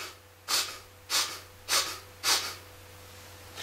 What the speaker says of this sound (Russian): Дыхание должно быть носом, как будто вы шмыгаете.